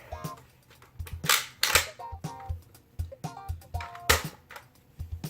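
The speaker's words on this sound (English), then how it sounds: "I hear ratcheting." Plastic ratcheting clicks as a Nerf Modulus Longstrike barrel is threaded onto the blaster: a series of sharp, close clicks in an uneven rhythm, some grouped in quick pairs.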